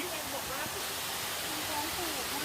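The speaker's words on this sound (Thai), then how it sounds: "ถึงแล้วนะคะ น้ำตกตาดเมย" Tat Moei waterfall in the Khun Tan mountains roars with a steady, even wash of falling water, heard close and continuous.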